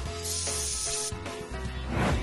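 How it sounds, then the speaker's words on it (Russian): A pepper spray canister fires in loud, sustained hissing bursts, one long spray, a short break, then another gush that swells near the end. "Сынок, на такие случаи носи газовый баллончик"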